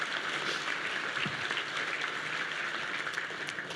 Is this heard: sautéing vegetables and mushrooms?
no